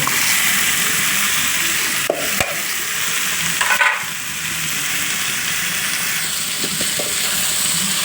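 Jackfruit seeds frying in a hot pan for a curry, a steady loud sizzle that runs throughout, broken by a few scraping stirs and clicks of a utensil against the pan.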